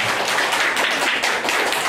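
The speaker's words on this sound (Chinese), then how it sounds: "那我们再用一个掌声给两位讲者，就是谢谢他们带来的精彩演讲" Audience applause for two speakers after a talk, a dense, steady patter of many hands clapping at close range, filling the whole stretch with no voices over it.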